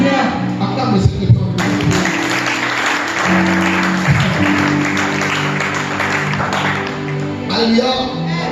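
Church congregation applauding during a worship service, a loud sustained wash of clapping from many hands filling the room, with voices and music underneath throughout.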